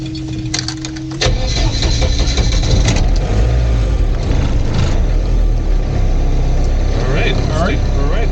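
A Jeep fitted with a Volkswagen 2.0L TDI diesel engine catches and runs after a brief starter crank, settling into a loud, steady, close mechanical drone.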